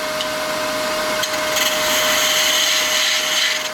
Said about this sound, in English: I have the second one mounted in my chuck on the lathe, and I'm just going to clean up the inside.